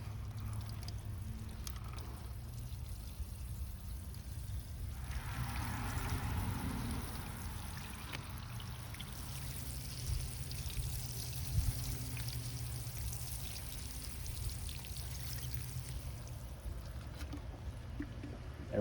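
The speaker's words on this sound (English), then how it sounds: "let's get some water on this." Water pours steadily from a hose or can onto the soil of a potted avocado tree, a soft continuous splashing and trickling that runs close and fairly quiet for the whole stretch.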